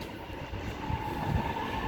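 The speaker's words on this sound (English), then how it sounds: "We have a terminating service now arriving onto platform number 2." An EMU train rolls into a station platform at Clarkson, a steady rumble with wheel and rail noise and a thin sustained squeal, moderately close and continuous with wind buffeting.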